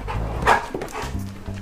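A young golden retriever with an injured leg gives a short, close, fairly loud bark with a whimpering edge, standing alone without talk.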